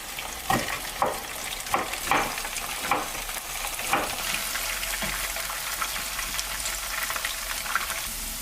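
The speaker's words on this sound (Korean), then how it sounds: "식용유를 프라이팬에 넣어주고 감자를 튀겨줍니다." Oil sizzles steadily as potatoes fry in a pan while a utensil stirs and scrapes at a regular rhythm, close and fairly loud, with no voices.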